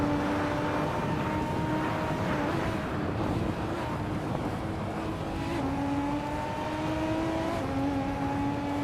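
Race car engines whine through a video game race, several cars droning steadily with rising pitched tones as they accelerate and shift, a continuous close roar without pauses.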